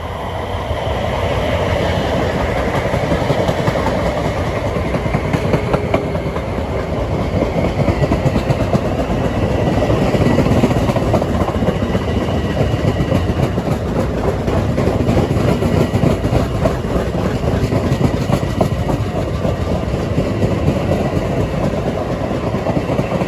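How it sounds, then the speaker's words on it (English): Commuter train 148 from New York to Babylon rolls past on track 4 at Forest Hills, a loud continuous rumble with wheel clatter and rail noise that holds steady from start to finish, no voices. "And going to the other side by track 4, that was train 148 from New York to Babylon"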